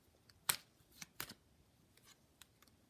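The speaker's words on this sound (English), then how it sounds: "I'm going to shuffle one more time to see if there's anything else coming up." Tarot cards being shuffled by hand in a few faint, quick riffling snaps and soft rustles, close and quiet in an otherwise still room.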